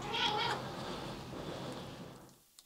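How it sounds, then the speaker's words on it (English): An indoor house cat meows insistently near a laundry room, a drawn-out, demanding call that fills most of the clip before fading out. "There's a demanding kitty down here."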